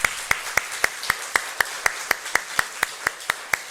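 A church congregation on Teachers' Sunday claps together in a steady unison rhythm, about four crisp, evenly spaced claps per second that carry on without a break.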